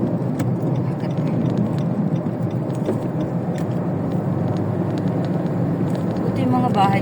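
A vehicle rolls slowly along a road with a continuous low engine rumble and road noise, while someone talks over it throughout.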